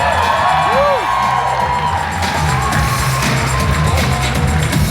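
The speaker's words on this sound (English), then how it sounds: "Huge round of applause." Crowd at a cosplay championship at Comic Con Africa, loud sustained cheering and whooping with applause, a dense roar with high shouts and whistles throughout.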